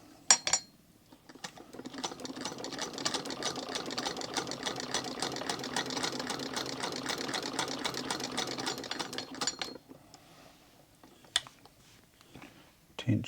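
An 1898 Singer 28-2 sewing machine stitches a seam in a steady, rapid run of close mechanical clatter lasting several seconds, with a few knocks before it starts and after it stops.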